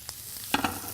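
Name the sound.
mushrooms sizzling in a pan as the pan is shaken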